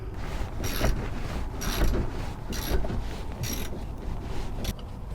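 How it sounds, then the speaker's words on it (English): Bolts being unscrewed beneath an Airstream Interstate 19 camper van to remove a macerator pump, heard as repeated ratchet-wrench bursts roughly every second over a steady rumbling background. "Okay, so we need to unscrew these 4 bolts."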